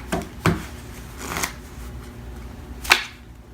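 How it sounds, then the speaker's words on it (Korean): Playing cards being shuffled by hand, a few crisp riffling bursts spaced across a quiet background, close and fairly soft. "나머지 카드 K 세 장을 잘 섞고 뽑도록 하겠습니다"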